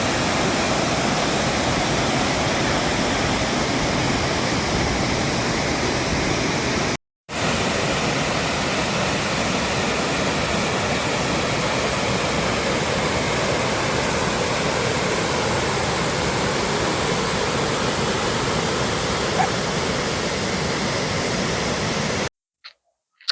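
Steady, dense roar of rushing water from a waterfall in Quebec swollen by snowmelt, continuous and loud throughout, with a brief cut of silence partway and near the end.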